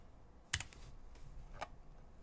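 Sparse computer keyboard typing, with one sharper cluster of key clicks followed later by a single isolated keystroke over a quiet background.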